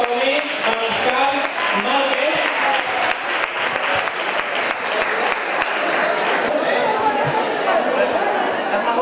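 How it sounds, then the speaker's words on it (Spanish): A crowd at an older people's lunch during the 2017 Ojén fair applauds loudly in rapid, sustained clapping, with chatter mixed in, before it thins toward the end. "vamos a dar un fuerte aplauso a don Bartolomé Mariscal"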